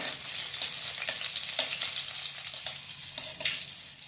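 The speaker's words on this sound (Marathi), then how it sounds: "तूप वितळलं की लगेच त्यामध्ये मिरची घालायची" Green chillies fry in melted ghee with a steady, dense sizzle and crackle, broken by a few sharper pops and spatters; close and continuous, with no voices.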